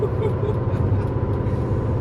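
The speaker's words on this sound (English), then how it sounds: "The other road noise is bad at the interstate speeds" Steady road noise fills the cabin of a 162-horsepower car cruising at interstate speed, a loud, constant low rumble and tire roar with no break.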